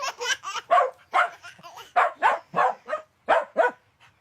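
A dog barks repeatedly in quick bursts of about a dozen sharp, close yaps, with brief silent gaps between them.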